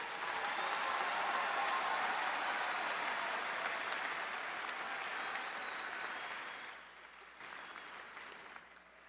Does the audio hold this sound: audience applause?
yes